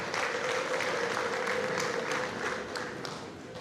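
A crowd at a celebration with an MC and band applauds steadily, a dense, loud wash of clapping that fades slightly toward the end.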